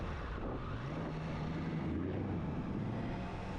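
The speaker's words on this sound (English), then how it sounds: "Nice little Mustang." A Ford Mustang engine drones past on the road, its pitch rising and falling beneath loud, constant wind rush on a moving motorcycle.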